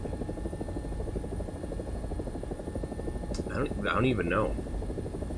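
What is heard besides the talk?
AB 205 (Italian UH-1H) helicopter in a video game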